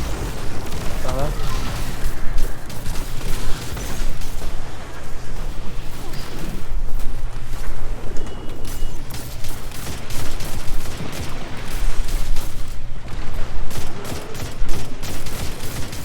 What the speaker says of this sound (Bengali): মাঝপথে উড়িয়েছি উড়ন্ত অবস্থায় উড়ন্ত অবস্থায় গ্রেনেড লঞ্চার।